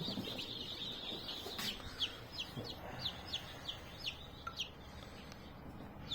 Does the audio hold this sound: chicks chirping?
yes